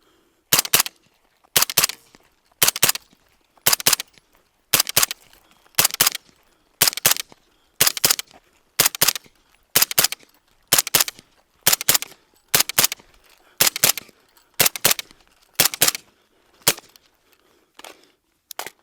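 Sig Sauer LVAW suppressed rifle firing about sixteen evenly spaced shots, each a sharp muffled crack with mechanical action, loud and close, alone with no talk.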